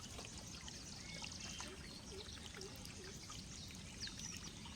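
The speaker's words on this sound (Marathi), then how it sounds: "हे पाणी दिसतं ते तुम्हाला थोडं थोडं पडते" Water trickles steadily beside a waterfall on a jungle trail, a faint, continuous wash of small falling streams with a few distant bird calls.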